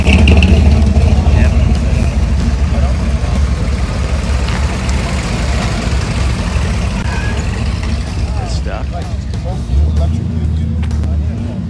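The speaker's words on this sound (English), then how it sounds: "Cars will continue to roll in" Classic cars rolling in at a Supercar Sunday car show on Porsche marquee day, with a steady low engine rumble and idling throughout, occasional revs, and people talking over the drone.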